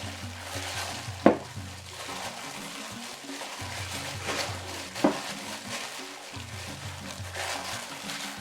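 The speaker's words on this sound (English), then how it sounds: "I'm going to mix it into a smooth dough" Bagel dough for a simple two-ingredient vegan recipe is mixed by hand into a smooth dough: soft, wet stirring and squishing with a couple of sharper knocks against the bowl, over a steady background tone.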